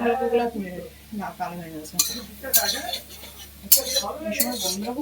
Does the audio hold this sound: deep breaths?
no